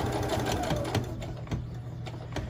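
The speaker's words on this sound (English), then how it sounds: "I'm going to stop, lift my presser foot, my foot's off the pedal, spin my project, and then go again" A sewing machine stitches a fabric pot protector, a close, steady mechanical whir with rhythmic needle ticking that runs continuously with no talking.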